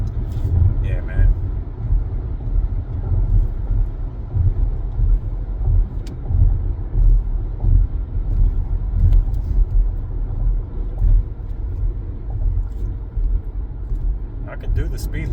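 Steady low road rumble and engine drone inside a car moving along a road in traffic, continuous and fairly loud throughout, with voices present over it.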